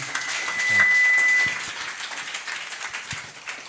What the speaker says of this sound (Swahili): Wapigieni wapendwa hawa makofi.